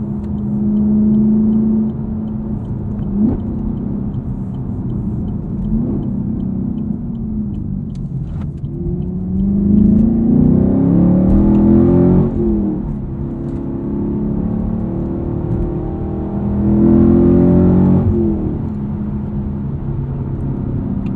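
A car engine revs while driving, rev matching switched off so the driver blips the throttle by hand; a steady mid-pitched engine drone under way, swelling with louder rising revs around the middle and again near the end.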